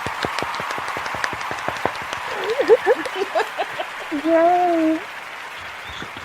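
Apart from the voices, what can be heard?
round of applause from audience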